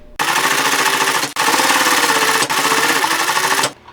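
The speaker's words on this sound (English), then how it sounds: "time to sew the boxing onto this cushion top" A sewing machine stitches boxing onto a camper cushion top in loud, close, continuous runs of rapid needle strokes, pausing briefly twice.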